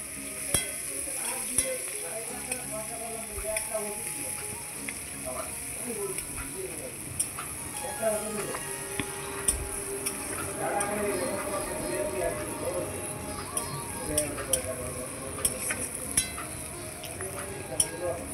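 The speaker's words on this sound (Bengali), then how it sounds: "এখন দিয়ে দিচ্ছি পেঁয়াজ। পেঁয়াজ দিয়ে একটু ভালোভাবে নেড়ে চেড়ে নিচ্ছি।" Onions frying and being stirred in a hot pan for a Bengali koi fish dish, a steady close sizzle with occasional clinks of the stirring utensil against the pan throughout.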